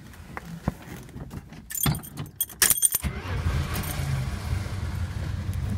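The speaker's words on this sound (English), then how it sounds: "So we'll start her up, let you hear it run." Keys jangle and rattle in the ignition of a rust-free, all-original classic car before the engine cranks and catches, settling into a steady, close, low idle rumble.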